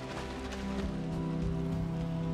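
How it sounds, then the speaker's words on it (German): Steady rain pours in the video game Valheim, a dense, constant hiss with droplets spattering across a surface, loud and close, heard alone with no voices. "Es regnet sowieso."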